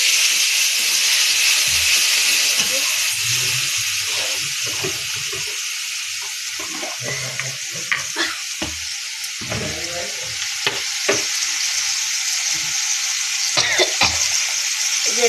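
Crab is sautéed with turmeric, salt and a splash of water in a pan, sizzling steadily and wetly. Intermittent scraping and clicking stirring sounds run through it, with no talking.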